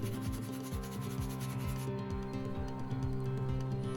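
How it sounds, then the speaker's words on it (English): Close, rhythmic sanding strokes rasp back and forth against a glued cedar wood joint, steady and unhurried, with no voices. "Sanding it while you go will work the paste into the cracks and smooth it all out."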